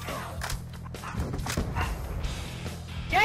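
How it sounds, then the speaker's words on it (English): Dog barking over online game voice chat during a Black Ops 2 match, several scattered yips and barks at moderate volume, thin and compressed as if heard through a microphone. "he's yelling at his dog"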